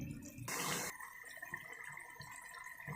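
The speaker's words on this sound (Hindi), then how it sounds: "तो अब हम थोड़ा सा पानी इसमें ऐड करेंगे" A small splash of water, under half a cup, poured into a Shimla chicken curry cooking in a pot, a brief broadband gush lasting about half a second, followed by quiet low kitchen sounds.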